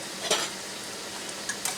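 Crispy salmon patties fry in a pan with a soft, even sizzle, brief and fairly quiet, broken by a couple of faint clicks of a utensil.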